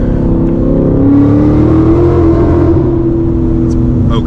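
A car running an E30 ethanol-blend tune pulls hard in third gear, its engine note rising steadily and droning loud and close throughout, with some talking underneath.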